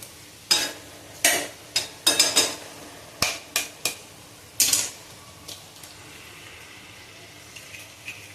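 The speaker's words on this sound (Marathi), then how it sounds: "मी चार अंडी घेतलेली आहे ती आता आपण फोडू" Eggs cracked one by one against a pan's edge for egg bhurji, a series of sharp close taps and cracks in uneven clusters, followed by quieter clinks.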